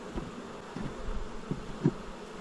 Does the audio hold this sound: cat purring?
no